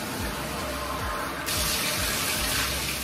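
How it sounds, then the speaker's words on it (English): Water from a container splashes over a bird cage grate during cleaning, a steady close rinsing wash that swells louder halfway through and runs continuously without speech. "I just take a container with water and kind of rinse the grate off."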